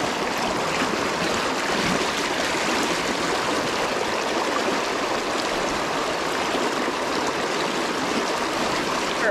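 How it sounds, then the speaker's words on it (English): Rain falls onto Spring Creek in Pennsylvania, a flowing trout stream. The patter and rushing water blend into a constant, loud hiss with no pause. "Look at this rain coming down."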